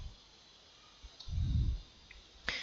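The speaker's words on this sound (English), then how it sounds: "you can just click on confirm and close" A single sharp mouse click on a restaurant POS system, heard faintly over a quiet room hum after a soft, low thump.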